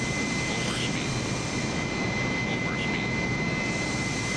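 Steady simulated airplane engine drone in Microsoft Flight Simulator, a continuous even roar with a high whine, flying past Liverpool and the Wirral near Ellesmere Port, while a person talks over it.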